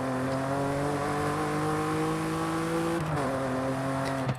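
Steady engine drone from a car in Forza Horizon 5, tuned with a 10-speed gearbox and revving toward 8,000 RPM, the pitch holding high then dipping briefly near the end before climbing again, loud and close with no talk.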